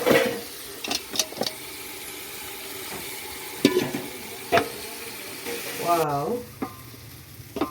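Boiled meat frying in a pot over an outdoor village fire in central Kenya, a steady sizzle throughout with sharp scraping stirs and clinks, and a brief spoken exclamation near the start.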